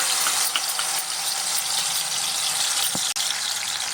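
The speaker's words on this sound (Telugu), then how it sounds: "ఆయిల్ వీటెక్కింది ఇప్పుడు టమాటా గ్రేవీ వేస్తున్నానండి" Tomato gravy sizzles in hot oil in a kadai while cooking paneer curry without onion or garlic; a loud, steady hiss fills the whole clip, with one sharp pop near the end.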